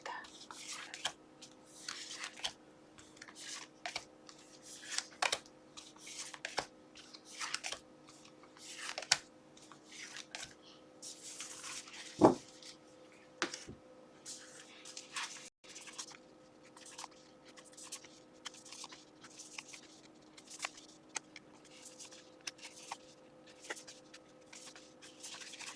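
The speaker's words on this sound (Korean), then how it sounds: "카드 뽑아보도록 하겠습니다" Tarot cards are shuffled and drawn, soft papery riffles, slides and taps repeating close and quiet, with a brief sharp click midway and a faint steady hum underneath.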